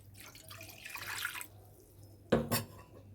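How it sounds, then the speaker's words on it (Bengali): Water poured into a wok fitted with a steaming rack, a short splashing burst after quieter kitchen clatter, close and moderately loud. "এবার আমি জল দিয়ে দেবো এর মধ্যে,"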